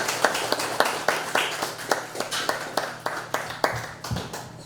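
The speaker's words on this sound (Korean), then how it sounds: "우리 오늘 이렇게 열강을 해주신 김 박사님 다시 한번 큰 박수로" An audience at a lecture applauding in a steady, even burst of clapping with distinct individual claps, fairly close and sustained for several seconds, with no voices over it.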